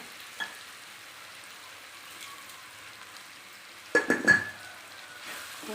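Tomatoes cook in oil with rock salt for sundakkai gravy, a faint, steady sizzle with a few brief louder bursts of stirring or crackling partway through.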